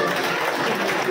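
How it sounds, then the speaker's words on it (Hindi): Loud, dense applause from the crowd at a district party convention held at a temple hall in Jamshedpur, sustained and steady throughout without any voice over it. "तो ताली बजाना सबके लिए जोरदार"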